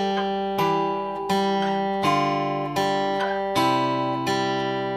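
Acoustic guitar plays the opening two bars of a song slowly, with ringing plucked chords and picked notes, about six even strums sustaining into one another, close and unaccompanied.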